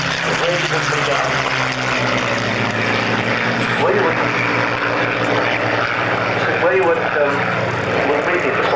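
A propeller aircraft engine at takeoff at the Biggin Hill Air Fair roars loud and close, a continuous droning throb with people talking beneath it.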